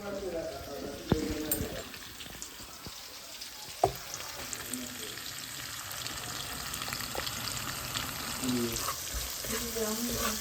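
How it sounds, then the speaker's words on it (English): Onions and peppers fry in seasoned oil for Jamaican saltfish and cabbage, giving a steady sizzle throughout with a few sharp clanks of utensils, while a person talks intermittently over the cooking. "the onions and the peppers are frying up"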